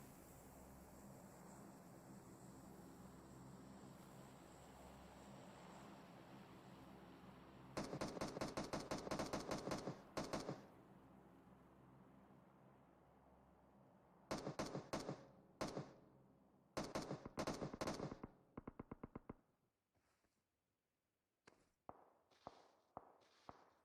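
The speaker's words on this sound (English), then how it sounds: "Few shots rolling out now." Video game gunfire comes in rapid automatic bursts, several clusters of crisp shots separated by quieter pauses, ending in scattered isolated shots over faint background hum.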